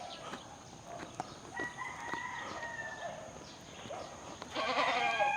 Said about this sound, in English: look at the goat right there